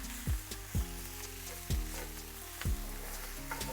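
Quinoa fried rice style with vegetables sizzling in toasted sesame seed oil, a steady close frying hiss broken by four heavy thuds of stirring or pan knocks spaced about a second apart.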